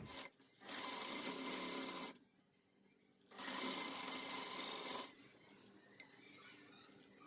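A sewing machine stitches cloth piping for a child's Pathani kurta, running in two steady whirring bursts with a quiet pause between and a low hum afterward.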